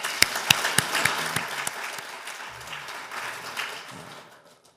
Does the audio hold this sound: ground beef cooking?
no